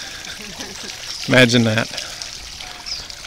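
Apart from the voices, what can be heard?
water fountains splashing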